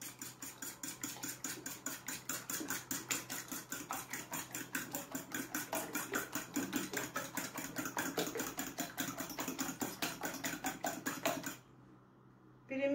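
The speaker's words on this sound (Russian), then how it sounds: "Яйца перемешиваем слегка" Eggs with a pinch of salt being lightly mixed in a bowl for a lemon cake batter, a fast, steady rhythmic clinking of a whisk or fork against the bowl for about eleven seconds, then stopping.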